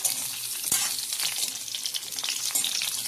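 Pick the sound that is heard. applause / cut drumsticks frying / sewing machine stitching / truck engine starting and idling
cut drumsticks frying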